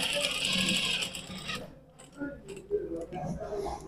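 Electric sewing machine stitching a seam on a shalwar, a fast dense mechanical whir running loud for about a second and a half, then stopping into quieter handling clicks and fabric rustle.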